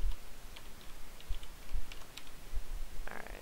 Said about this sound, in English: I wish I could type today.